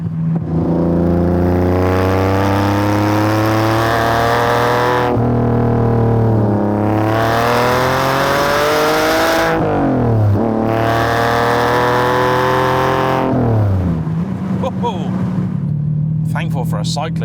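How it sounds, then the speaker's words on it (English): A TVR T350C with a 4.0-litre Sagaris engine revs hard while driving, loud and close, its pitch climbing and dropping between gearshifts as the driver talks over it. "you do need to rev this thing out if you want all the speed"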